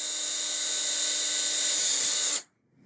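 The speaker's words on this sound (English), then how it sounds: "I'm going to drill a hole just to check and make sure that I've got the right size drill bit." Power drill boring a test hole into mahogany: a steady, loud high-pitched whine runs continuously up close for over two seconds, then cuts off abruptly into silence.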